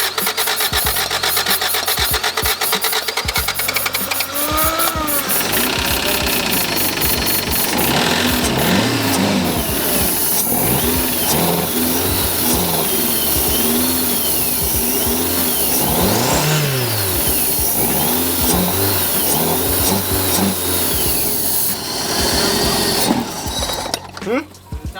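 A junk Toyota AE86 engine cranks, catches and settles into a steady rough idle with occasional throttle blips, loud and close throughout, with people talking nearby.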